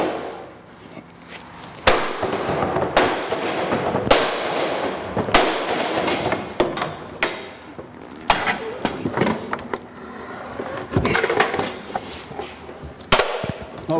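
A firefighter's forcible entry tool is driven into the gap of a crush door simulator, producing a series of sharp, loud metallic bangs at irregular intervals close by, with clatter and scraping between strikes.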